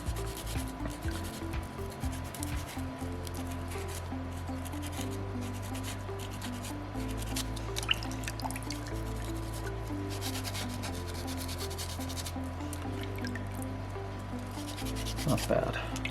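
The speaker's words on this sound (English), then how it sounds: "with sandpaper number 2." Sandpaper rubbing steadily across a small soapstone Moai carving, a soft continuous scratchy sanding close up, with a low humming drone in the background.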